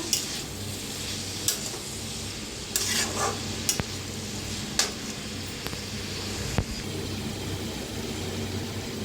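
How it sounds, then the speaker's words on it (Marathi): Potatoes and cabbage sizzle softly in hot oil while a utensil stirs and scrapes the pan, producing sporadic clinks and taps over a low, steady frying hiss; no talking. "छान असं भाजून घ्यायचं तेलात।"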